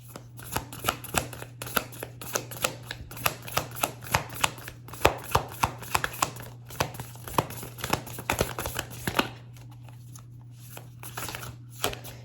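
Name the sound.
shuffling a deck of cards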